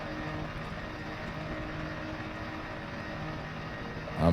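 Off-road ground vehicle with big mudding tires, a 6-inch lift kit and a snorkel in Elite Dangerous, engine held at full throttle: a steady, dense droning roar throughout, swelling into a louder burst at the very end.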